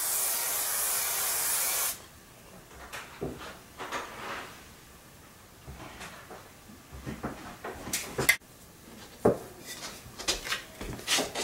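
A can of Kenra 25 hairspray gives one long, loud, continuous spray hiss of about two seconds, followed by quieter handling clicks and rustles.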